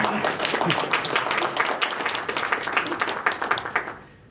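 An audience at a Rotary club assembly applauds, a dense burst of close clapping that holds steady for about four seconds and then fades out quickly.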